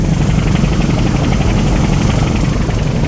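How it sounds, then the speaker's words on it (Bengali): Steady, loud engine and propeller roar of the Zam Zam-7 river launch, heard from the back of the upper deck on the Munshiganj to Dhaka route, a continuous broadband drone with no pauses and no voices. "দোতলার পিছনে চলে আসলাম আর এখান থেকে প্রবলার থ্রাস্ট দেখেন"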